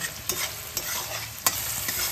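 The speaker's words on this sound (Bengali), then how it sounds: "এগুলো এই মশলাগুলো দিয়ে ভালোভাবে কষিয়ে নেব।" Ground coriander, cumin and Kashmiri chili powder are sautéed in a pan, a close, steady sizzle punctuated by three distinct spatula scrapes and knocks.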